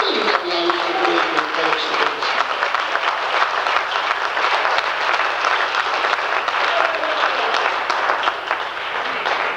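A church congregation at a Spanish-language service in Dallas, Texas breaks into sustained, dense applause, strong and continuous for the full length with a slight swell near the end.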